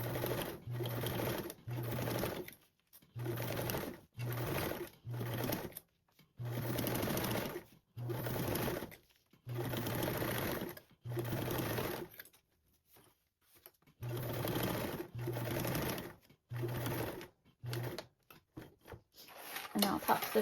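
Short repeated bursts of a sewing machine top-stitching a duffle bag, each a second or two long, separated by brief pauses, close and clear with no talking.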